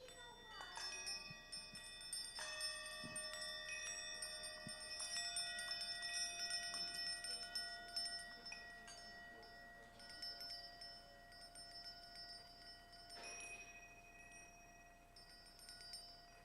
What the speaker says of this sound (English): Any reflections on what it's like to hear the bells?